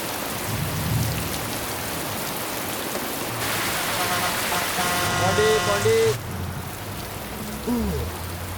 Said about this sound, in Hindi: कितनी बारिश है